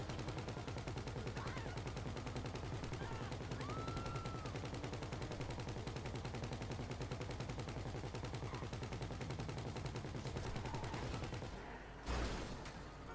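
Rapid, continuous machine-gun fire rattles on in GTA V as a steady, fast rhythm of shots, dropping out briefly near the end before a final loud burst.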